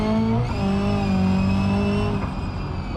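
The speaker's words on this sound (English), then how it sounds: "A little bit too much throttle on the launch" A car in BeamNG.drive launches with too much throttle, its engine howling at high revs with a steady harmonic whine that shifts pitch once, loud and close, without any talk.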